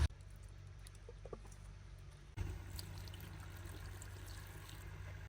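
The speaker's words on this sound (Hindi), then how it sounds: "शलजम पालक में थोड़ा सा पानी डाल देते हैं।" Water poured from a vessel into a cooking pot holding turnip and spinach, a soft splashing patter that grows fuller partway through, quiet and close with no talk.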